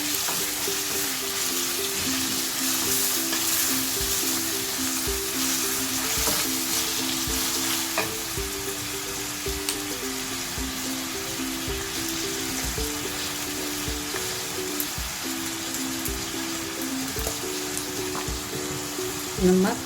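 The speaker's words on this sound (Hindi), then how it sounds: "मीडियम साइज़ की प्याज है जिसको स्लाइस कर ली हूँ, वो ऐड करेंगे हम। अच्छे से भून लेंगे इसको" Sliced medium-sized onions frying in a pan, a steady close sizzle that holds throughout with occasional light stirring scrapes and a faint low hum behind it.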